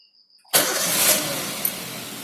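A car engine cranks and catches at once after a battery refill, then settles into a steady, loud idle close by, with a brief blip partway through.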